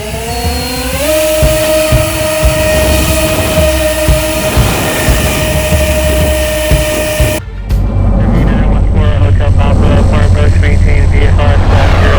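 A radio-controlled Cessna 337 model airplane drones steadily with its twin propeller engines, a constant loud tonal whine that shifts pitch briefly, then gives way to a rougher, noisier rush of wind and motor near the end.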